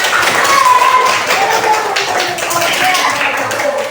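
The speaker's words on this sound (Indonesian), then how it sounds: "Kita berikan tepuk tangan." Children in an Indonesian primary classroom give a round of hand clapping for two classmates, a dense close patter of many hands, with voices mixed in.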